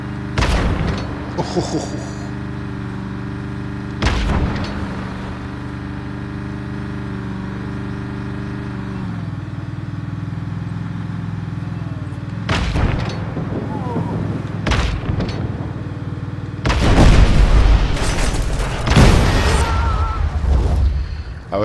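Video game warfare with heavy booms and bursts of gunfire, loud, scattered blasts over a steady droning background, with someone talking at times between them.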